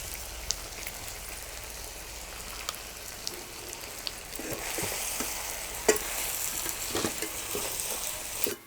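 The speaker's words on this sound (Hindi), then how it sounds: "अभी हम मसाला डालेंगे, जो हम पीसे हैं सील पर," Mutton curry frying with stone-ground masala over a rustic fire, a soft sizzle with scattered stirring scrapes and taps that thicken partway through.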